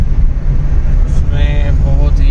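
Steady low road rumble and wind buffeting inside a car driving with its windows down on a broken, damaged road, loud and continuous, with someone talking briefly over it.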